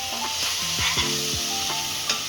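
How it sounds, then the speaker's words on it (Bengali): Chicken gizzard and liver frying in a pan with turmeric, salt and cumin powder, stirred steadily with a utensil scraping through the pan under a continuous close sizzle, with no talking. "নেড়ে নিই।"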